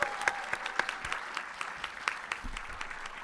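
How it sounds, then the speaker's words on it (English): An audience at a startup demo day applauds with a fairly faint, even patter of claps that continues throughout. "Another round of applause for Emoji, everybody."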